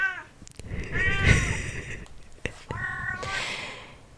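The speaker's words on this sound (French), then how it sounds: "Mon chat." A cat meows a few times close by, drawn-out tonal cries with short pauses between them, and a soft voice is heard in between.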